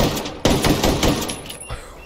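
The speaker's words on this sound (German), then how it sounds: "Jetzt muss ich aber kurz mit der Diegel schießen." A few Desert Eagle pistol shots from the shooter game Ghost Recon Breakpoint, sharp loud reports spaced irregularly, with an echoing decay, no talking.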